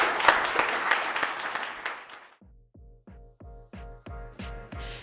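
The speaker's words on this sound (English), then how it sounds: "Let's have another round of applause." Audience applause after a conference talk, a burst of clapping that thins out after about two seconds, followed by a repeating musical chime outro.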